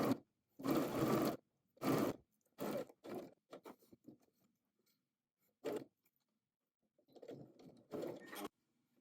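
A sewing machine stitches collar pieces together from dot to dot, running in short, loud, separate bursts with brief pauses between them and some quieter mechanical clicks.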